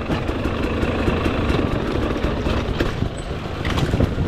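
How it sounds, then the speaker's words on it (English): A hard enduro dirt bike engine idles steadily with a rough, continuous rumble while descending a steep creek hill; no clear shutoff is evident. "My bike shut off."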